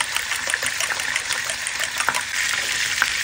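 Beaten egg poured into hot oil bursts into loud, crackling sizzle with bubbling pops, close and continuous, growing slightly fuller toward the end.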